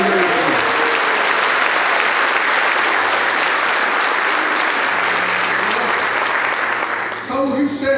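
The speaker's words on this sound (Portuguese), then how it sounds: "Dê um aplauso ao Senhor com uma alegria." A church congregation claps for the Lord, the loud, sustained applause filling the room before a voice cuts in near the end as the clapping fades.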